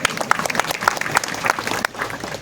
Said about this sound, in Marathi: ज्यांनी सप्ताह घडवून आणला त्यांच्या एक वेळेस टाळी वाजवा